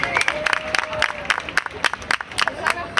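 An audience applauds María Alcázar, representative of Arbuniel, at a Serranilla de Mágina festival event in Huelma; scattered individual claps ring out sharply over a murmuring crowd and voices, irregular and fairly close.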